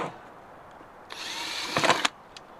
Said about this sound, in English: Pre-drilling.